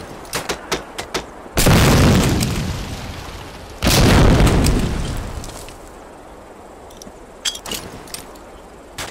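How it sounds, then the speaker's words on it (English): Two loud, heavy grenade blasts in Medal of Honor Allied Assault, each a sudden broadband boom with a long rumbling decay, set among sharp metallic clicks and small pops during a WW2 training mission. "Throw a grenade into each of the concrete boxes."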